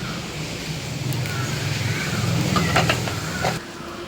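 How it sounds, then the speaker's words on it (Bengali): Soybean oil heats in a hot wok, giving a steady close sizzle and crackle with a faint stirring scrape, continuous for a few seconds before easing off. "কড়াইটা গরম হয়ে গেছে দিয়ে দিলাম সোয়াবিন তেল"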